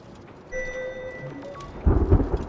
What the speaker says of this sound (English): I can't believe this storm.